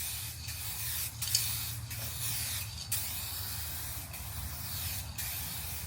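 Spray paint can laying down a light wet coat in a driveway, a steady hiss broken by several short pauses between passes, close and continuous with no talk.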